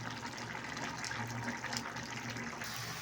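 Water poured into a pan of spiced curry, a faint, steady gush of liquid lasting a few seconds.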